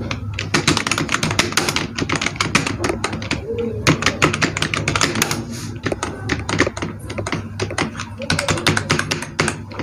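Rapid typing on a computer keyboard while an address is entered into an online birth certificate form, with quick, continuous clattering keystrokes close to the microphone and occasional faint background chirps.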